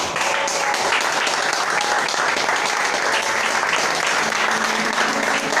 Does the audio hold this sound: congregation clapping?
yes